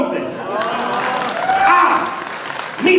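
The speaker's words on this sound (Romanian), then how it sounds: "aplauze!" An audience at a stand-up comedy show breaks into applause, a steady mass of clapping from the crowd, loud and close, with voices and cheering mixed in.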